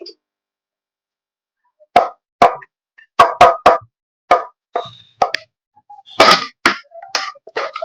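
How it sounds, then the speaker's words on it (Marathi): Rice is dropped into a pot of chicken dum biryani with an irregular series of soft, close plops and thuds, some spaced apart and others in quick clusters. "आता आपण थोडासा भात टाकून देऊ"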